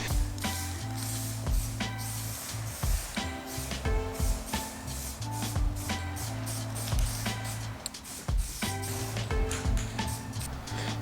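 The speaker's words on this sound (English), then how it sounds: "We'll give that one a quick spray." Continuous hissing of aerosol spray paint on a Honda CRX, with clicks and mechanical rattles throughout, steady and fairly loud, close by.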